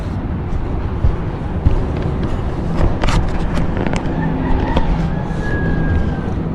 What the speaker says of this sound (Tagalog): Ayan yung aking Uber na sasakyan.